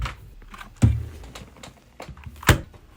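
A computer keyboard being handled and swapped out on a desk during a Mac Mini M1 setup: soft clicks and taps with two louder thunks as it is set down, close and without speech.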